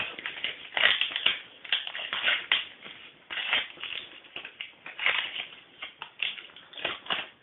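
Dried PVA glue peeled off the surface of a vinyl record, giving a steady run of crackly, tearing rasps in irregular bursts, close and fairly quiet with no talking.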